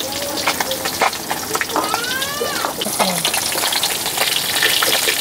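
Fish fries in a pan of hot oil, making a loud, steady sizzle with crackling spatters, while a few brief utensil or background sounds cut in partway through.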